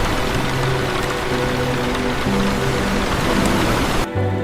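Rain falling steadily near the ocean at a cliffside villa, a dense and loud hiss of drops that continues throughout, with a soft musical drone underneath and an abrupt cut just before the end.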